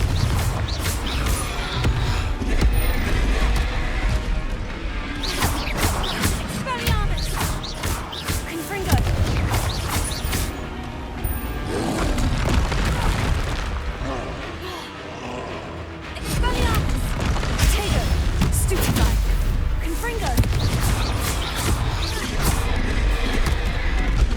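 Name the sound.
Glacius, Incendio and Confringo spell effects from video game Hogwarts Legacy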